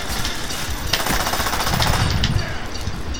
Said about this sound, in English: Getting my Uzi, cause why not?